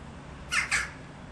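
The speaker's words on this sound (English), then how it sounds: "They're all around now and they're getting angry at me." Crows agitated after being startled give two harsh, closely spaced caws that ring out loud and near against a quiet outdoor background.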